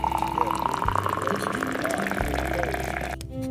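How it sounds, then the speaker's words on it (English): Hot water pours steadily into a tin coffee pot in a period kitchen setting for an 1820s working-class breakfast, a continuous liquid rush lasting several seconds over a faint tonal background before cutting off near the end. "The grounds go into a tin coffee pot. Hot water follows"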